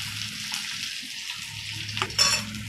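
Chopped onion frying with mustard seeds, green chili and curry leaves for Mumbai-style poha, a soft steady sizzle with occasional stirring scrapes and a brief metallic clink near the end, close and fairly quiet.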